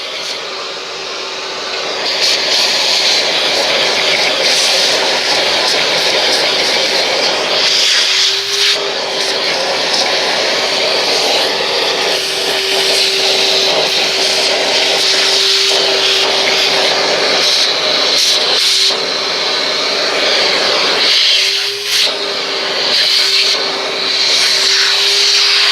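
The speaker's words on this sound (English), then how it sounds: "And just vacuum it out a little bit." A vacuum cleaner runs continuously while vacuuming out a 2019 Wright 36i stander mower after an oil change, a loud steady whine with a constant hum and slight pitch shifts as the nozzle moves.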